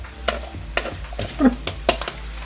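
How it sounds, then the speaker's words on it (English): Corned beef brisket searing in a pan with wine and onion, sizzling steadily while a utensil scrapes and taps in irregular strokes, close and fairly loud. "We're just searing it right now."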